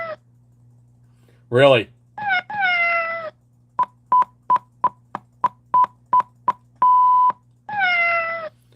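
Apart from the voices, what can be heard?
cat meowing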